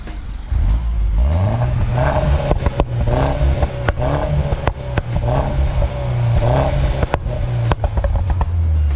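Engine of a 2015 Mini Cooper R59 revving in sport mode inside a garage, a loud close series of repeated throttle blips rising and falling in pitch with sharp crackles between them.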